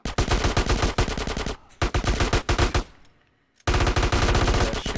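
Rapid automatic gunfire from a Grand Theft Auto: San Andreas Definitive Edition shootout on Nintendo Switch, loud and dense bursts cutting out briefly twice before resuming, with no talk over it.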